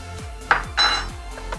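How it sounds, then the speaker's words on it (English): A wooden spoon works an egg into flour in a bowl, making a few hard clunks and scrapes against the bowl side over a low, steady rumble, close and with nobody talking. "mix in the egg from the center, bringing in a little bit of the flour each time"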